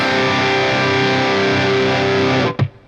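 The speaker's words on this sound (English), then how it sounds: "it's called the suspended second chord." Heavily distorted electric guitar sustains a suspended second chord, a dense buzzing wall of sound held for over two seconds before a sharp choke and brief decay.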